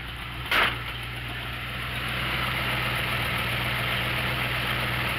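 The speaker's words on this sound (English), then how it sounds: "See, now it'll start idling up" A Ford Ranchero engine idles steadily with a low hum, briefly thumps near the start as it is put in drive, then idles up into a slightly louder, even running drone.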